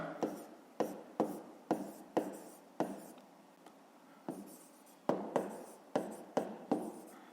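A pen scratches across paper as a fifth-grade math exercise is checked, a quiet run of short strokes and taps in irregular bursts with brief pauses between, close up and alone.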